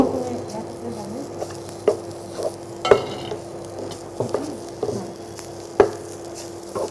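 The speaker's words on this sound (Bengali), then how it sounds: "লবণটা দিয়ে আবার মাখিয়ে নিব" Salt is worked by hand into a mashed taki fish and dried chapa shutki bharta, a Garo recipe, with soft squelching and scattered sharp taps over a faint steady hum.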